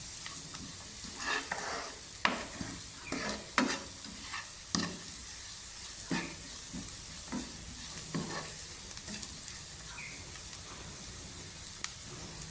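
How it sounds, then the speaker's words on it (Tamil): Onions and garlic sautéing in a pan for a Tamil egg curry, with a steady sizzle broken by repeated scraping stirs of a spatula, close and moderately loud, no talking. "வெங்காயம் வெங்காயம் வெள்ளைப்பூடும் வதங்கி வருது"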